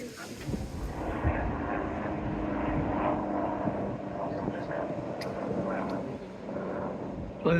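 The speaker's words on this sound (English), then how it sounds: "Well, no idea if they caught that helicopter or not." A helicopter passes overhead during a blustery outdoor walk, its engine a continuous droning rumble lasting throughout, mixed with wind buffeting the microphone.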